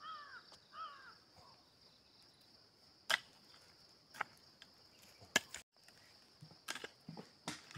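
A bird calls in spring over a maize field being weeded: a few short, bright, chirping calls at the start, then quiet outdoor air broken by scattered sharp knocks.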